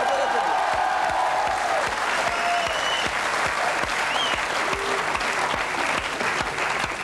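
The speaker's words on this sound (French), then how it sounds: "On peut l'applaudir." A television studio audience gives steady, dense applause on a French live broadcast, with rhythmic claps standing out over a loud continuous wash.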